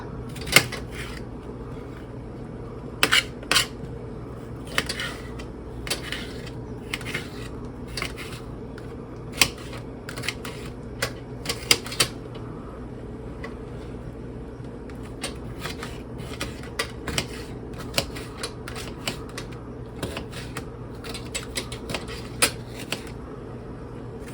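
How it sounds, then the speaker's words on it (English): A knife dices a cucumber or bell pepper on a board for a lentil salad, a scattered run of quick close taps and knocks over a faint steady room hum, with no talking. "Okay, and I'll dice this up."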